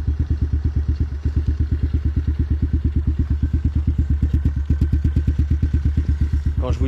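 An off-road motorbike engine, started for the first time, idles close by with a rapid, even, loud thumping beat that holds steady throughout.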